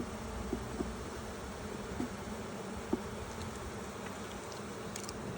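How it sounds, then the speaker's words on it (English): Honey bees buzz at a hive about 20 days after installation, a soft, continuous hum with a few faint knocks and clicks and no voices. "These bees are all laser focused on nectar."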